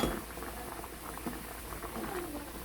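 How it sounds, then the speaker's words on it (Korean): Homemade scorched rice (nurungji) simmering in water in a pot, a quiet, continuous bubbling patter with small pops, heard close but faint. "누룽지 끓이고 있습니다"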